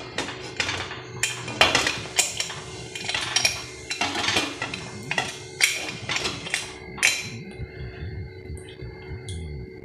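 Metal clanks and taps from a lid on a cooking pot on the stove while a caramel cake cooks. The hits come repeatedly in an uneven rhythm over a steady low hum.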